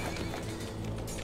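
A horse being ridden outdoors in a historical drama scene, with steady clip-clop hoofbeats and a possible whinny layered in a dense, busy soundtrack.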